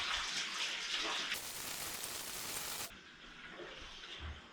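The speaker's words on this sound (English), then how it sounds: "We need to wash our hands." Running tap water splashing in a sink while hands are washed, a steady broadband rush that surges louder midway and then eases back to a softer flow, alone without talk.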